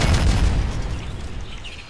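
A deep explosion booms in the video game Squirrel with a Gun, a loud low-pitched blast at the start that rumbles and slowly fades out over about two seconds.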